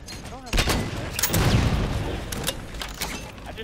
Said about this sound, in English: I just threw that grenade